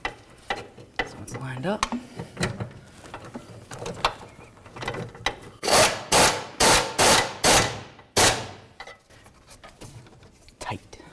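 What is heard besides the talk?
bolt being fastened to secure Jeep Liberty fuel tank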